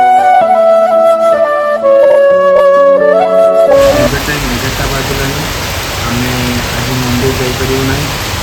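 A song with sustained melodic tones gives way halfway through to a loud, dense wash of heavy rain that continues steadily to the end, with a voice speaking faintly under the downpour.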